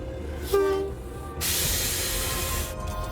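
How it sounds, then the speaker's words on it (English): An Australian freight train drags a dead locomotive: a brief horn tone sounds, then a loud, close, steady hissing roar of the moving train fills the rest. "Bernie decides to drag the dead loco and fix it later."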